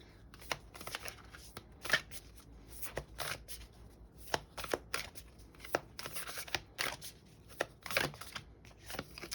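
Oracle cards for a tarot reading being shuffled by hand in quick, irregular bursts of riffling and slapping, close and crisp, with brief pauses between runs.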